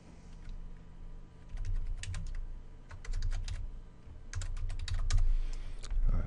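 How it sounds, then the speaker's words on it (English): Someone types on a computer keyboard in several quick bursts of close, crisp keystrokes with brief pauses between them, over a low steady background hum. "we're gonna type in the name of our site"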